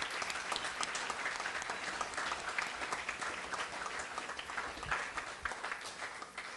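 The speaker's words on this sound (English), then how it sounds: "Just wanted to really quick ask for a nice round of applause for Cheryl Wolk and her kitchen staff" Audience at a high school track and field awards banquet applauding, a steady dense wash of many people clapping that continues throughout at moderate distance, with no talking over it.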